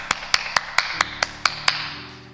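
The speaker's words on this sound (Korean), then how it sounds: "하나님께 영광의 박수." Several crisp, evenly spaced claps of applause to glorify God from a youth church congregation, close and loud, then fading into a quiet sustained tone.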